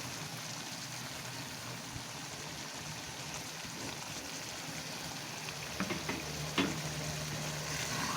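Meat and whole spices fry in ghee for palak gosht, a continuous dense sizzle with a few soft stirring knocks toward the end, close and steady with no talking.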